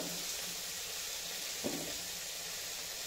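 Constant, even sizzle of vegetable stalks frying in hot oil in an iron wok, steady and close, with a single soft clink partway through.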